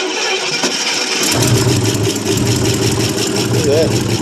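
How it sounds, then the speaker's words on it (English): A 1974 International pickup that had sat for about 25 years and may be flooded cranks briefly, catches, and settles into a rough, steady idle, loud and close. "Starts and idles."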